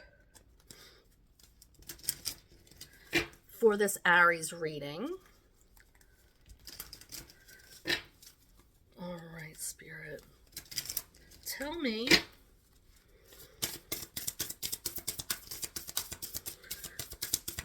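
Soft, rapid papery riffling of shuffled cards, a bursty patter between stretches of speech and continuing alone at the end.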